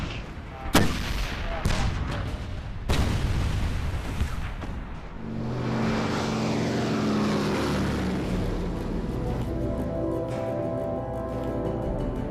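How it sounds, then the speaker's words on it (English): Heavy WW2 artillery barrage pounding an island, with sharp blasts early on giving way to a dense, continuous roar of gunfire and engine-like rumble that stays loud throughout. "It's awesome, a terrific barrage."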